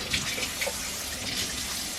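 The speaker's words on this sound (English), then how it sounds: "of course you got to wash your pork chops too" Tap water runs steadily into a sink while pork chops are rinsed, a close, continuous hissing splash with small bursts and no talk.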